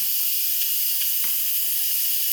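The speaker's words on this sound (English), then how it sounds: "you can definitely hear the steam valve emitting steam" An Instant Pot's steam valve hisses continuously during steam bath canning, a steady loud airy rush with a few faint clicks underneath.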